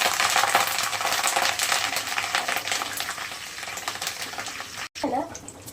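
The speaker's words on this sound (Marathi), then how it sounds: "कढीपत्ता तळून घेऊयात आपण" Curry leaves frying in hot oil for a thin poha chivda, a loud close crackling sizzle with sharp popping bursts that eases slightly, then cuts off briefly before the crackle resumes.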